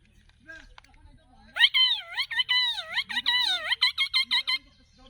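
A person imitating a parrot with a leaf, producing a rapid series of shrill, warbling whistled squawks in quick repeated bursts, close and clear.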